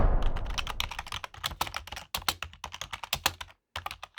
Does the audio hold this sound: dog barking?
no